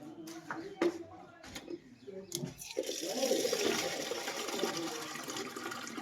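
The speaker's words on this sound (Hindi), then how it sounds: "मैं ना पौधों में पानी दे रही हूँ।" Water poured onto potted plants on a foggy winter day, starting with a few clattering knocks and handling noises, then a steady close splashing pour with faint birds cooing in the background.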